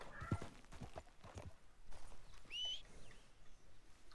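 Horse hooves clip-clopping in a video game, faint and steady footfalls at a walking pace with a soft ambient background and a brief bird-like chirp.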